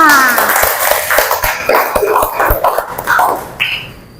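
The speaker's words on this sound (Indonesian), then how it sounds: "Beri tepuk tangan untuk kita semua" Schoolchildren in a classroom clap their hands in loose, uneven bursts, with sharp individual claps mixed with excited young voices and squeals close by.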